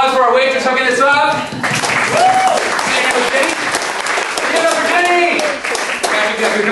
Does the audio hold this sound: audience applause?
yes